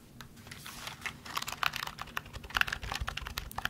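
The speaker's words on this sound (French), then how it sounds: "Il s'agit du clavier que j'ai le plus utilisé" Quick, crisp keystrokes on a computer keyboard, close and quiet, tapped in an irregular rapid stream without any talking, recorded for ASMR.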